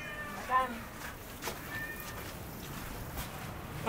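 A cat meows a few times amid steady background noise at a beach outing, with people talking nearby.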